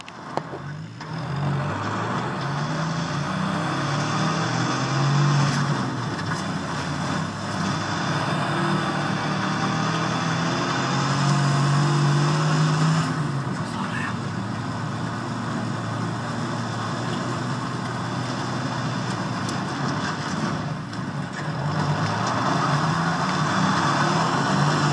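A car drives in the video game Battlefield 3, its engine a steady, fairly loud low drone that swells slightly and holds for the whole stretch with no talking.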